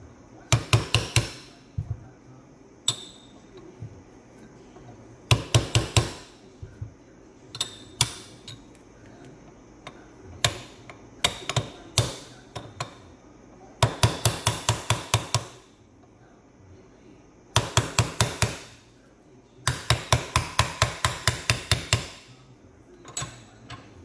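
A hammer taps ball bearings into an RCV axle shaft in bursts of rapid metallic strikes, each burst several quick hits separated by short pauses, close and crisp over a steady background hum.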